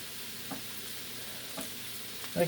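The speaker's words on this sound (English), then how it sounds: "This isn't a Blackstone, you may have noticed. It's getting a decent sear." Kielbasa sausage sears in a Lodge enameled cast iron pan with a soft, steady sizzle throughout, faint and close, with a couple of light clicks and a small knock near the end.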